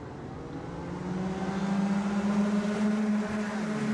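Race cars in the national category pre-final howl around the short, twisting Villars circuit, a sustained engine drone rising in pitch and loudness as they approach, with no voices.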